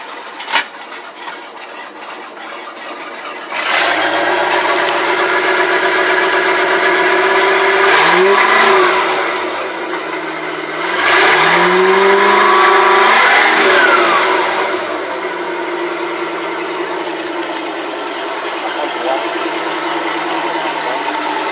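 A 2003 Tahoe 234 boat's 5.7L engine cold-starts with a cranking catch, then settles into a steady idle broken by two strong rev swells that rise and fall before dropping back to a low, even rumble.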